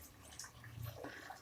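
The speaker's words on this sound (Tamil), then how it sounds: "தண்ணியை சேர்த்துக்கலாம்." Water is poured into a pan of radish sambar as it cooks, a soft, steady splashing and gurgling that stays fairly faint.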